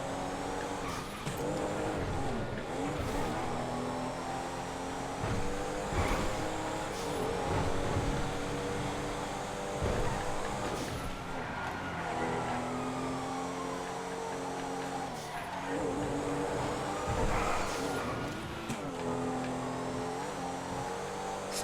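A Comet 4S car in GTA FiveM racing, engine revving and accelerating in repeated rises with intermittent tire squeal and skids, close and continuous, no voices.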